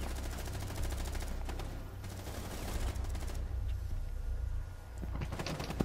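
Assault rifle fire in Rainbow Six Siege, heard as rapid bursts of loud, close shots that repeat through the whole stretch over a low rumbling game ambience.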